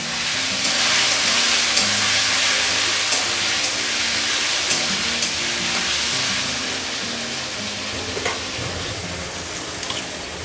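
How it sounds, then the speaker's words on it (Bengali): Chopped tomatoes hit hot oil with tempered spices in a pan for a Bengali fish-head tomato dish, a loud, continuous sizzle with scraping stirs and occasional clinks of the spatula. "এবার কেটে রাখা টমেটোগুলো এর মধ্যে দিয়ে দেব। ভালো করে নাড়িয়ে নেব।"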